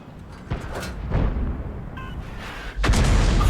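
Repeated video game gunshots from a T92 rifle, sharp bursts spaced unevenly over a steady low rumble, loud and close, with a heavier blast near the end.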